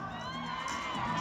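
A pageant crowd at a Miss Independence Day coronation shouts and cheers in one steady, loud roar of many voices that lasts through the whole moment. Shrill whoops rise above the mass of sound.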